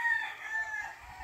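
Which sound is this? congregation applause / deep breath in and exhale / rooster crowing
rooster crowing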